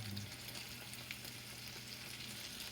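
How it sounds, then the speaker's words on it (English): Battered morel mushrooms deep fry in canola oil, a faint, steady sizzle and crackle of bubbling oil heard close by with no voices. "We are frying this, deep fry. And we're deep frying it in oil."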